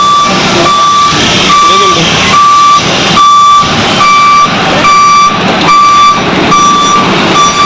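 Trucks reversing in Mormugao, a loud regular reversing beep repeating about every second over a rumbling engine.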